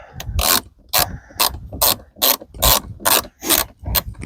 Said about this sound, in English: This is a pretty cool wrench.